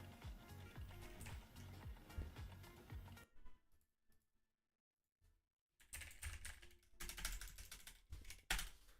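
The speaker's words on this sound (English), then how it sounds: "I'm gonna stop talking, type the keyboard." Fast, uneven clatter of keys on a computer keyboard, close and fairly loud, breaking off into near silence for a couple of seconds before the rapid typing resumes with some harder key strikes.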